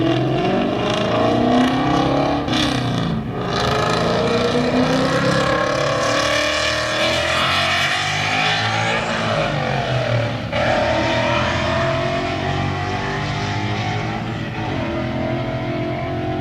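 A loud 1997 Chevrolet Tahoe engine with replaced lower intake gaskets revs and drones continuously, pitch climbing and dropping as it accelerates at low speed, rough and strained, close by.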